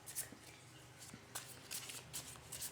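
Tarot cards being shuffled by hand, soft, close riffling and flicking in short bursts, quiet and crisp with no talking.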